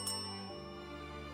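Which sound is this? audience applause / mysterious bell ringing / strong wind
mysterious bell ringing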